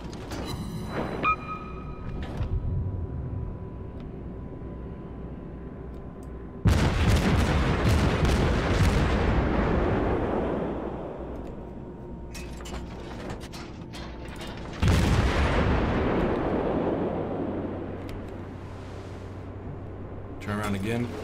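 Warship guns in World of Warships fire in two heavy booming salvos that roll out and decay slowly, with mechanical clicks and turret whirring between them and a voice talking at times.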